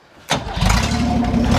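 A Holden HT Ute engine cranks and catches after a short quiet moment, then settles into a loud, steady near rumble with slight rises in revs.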